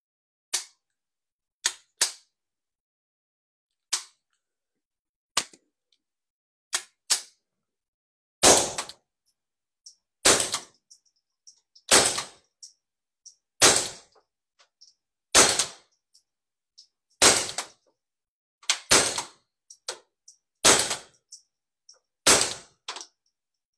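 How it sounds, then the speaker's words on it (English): Suppressed shots from a Ruger 22/45 pistol fitted with a Ruger suppressor, fired one at a time in a slow, irregular string of sharp, dry cracks separated by silence, with louder and closer reports later in the sequence. "now we're going to shoot with the Ruger suppressor here on the 2245"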